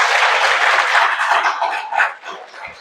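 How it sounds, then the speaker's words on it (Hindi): Audience at a Brahma Kumaris spiritual class clapping together on request, a loud burst of applause that swells and then fades out within a few seconds. "एक बार ताली बजाओ सभी"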